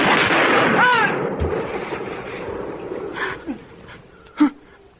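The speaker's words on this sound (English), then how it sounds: "I told you I'd shoot." Gunfire in a radio drama: a few sharp gunshots ring out after a shouted exchange, with an echoing burst near the end, and voices heard faintly underneath.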